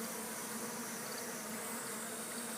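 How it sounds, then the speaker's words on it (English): Varroa mite-free honeybees buzz in a dense, continuous drone from an open hive full of larvae. The close, steady hum runs unbroken throughout with no voices. "This is varroa mite-free bees."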